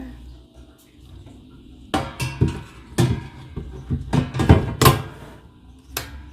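Silicone mat pushed and fitted into an air fryer, with a burst of close plastic knocks, rubs and clunks after a quiet start, ending in one sharp tap.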